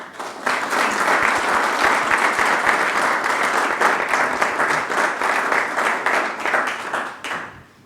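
Sustained audience applause after a medical lecture on cardiac pacemakers, dense steady clapping from a large crowd lasting several seconds, then fading out at the end.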